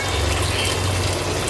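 Boiling hot water poured into a pot of beef curry for kochu shak gives a steady, close liquid rush and gush that runs without a break, with no talk over it.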